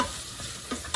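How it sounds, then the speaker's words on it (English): Diced carrot stirred through olive oil in a pan for red lentil soup, a brief soft sizzle with a couple of light scraping stirs, close and quiet. "I'm just coating that now with all the flavors and a little bit of olive oil"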